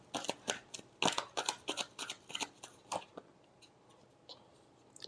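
Tarot cards are shuffled in a quick run of crisp, rhythmic snaps that thin out into a few scattered clicks.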